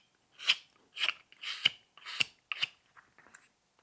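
A knife carves across the end grain of a small wooden snowman ornament, giving six rasping scrapes in a steady rhythm, close and alone with no talk.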